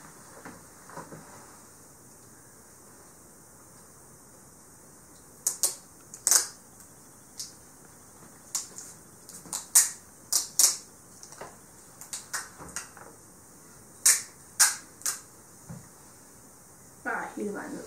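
A plastic spoon being taped to a wooden skewer for a marshmallow catapult, with a run of sharp tape rips and crackles in irregular bursts, fairly close, amid faint room noise.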